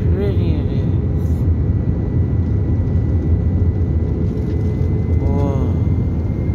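Steady, loud engine and air rumble fills an airliner cabin during a night landing at Charleston, North Carolina, continuous throughout with a faint voice briefly audible near the end.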